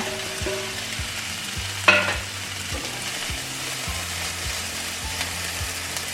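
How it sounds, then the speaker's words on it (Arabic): Onions sizzle and fry steadily in a pan at close range, with an occasional clink of a utensil stirring through the crackle. "فالبصله غنخليها تحمر هنايا"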